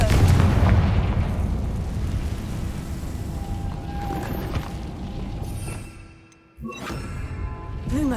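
A loud, sustained rumbling blast from the Confringo fire spell in Hogwarts Legacy, heavy and booming for several seconds before briefly cutting out and resuming.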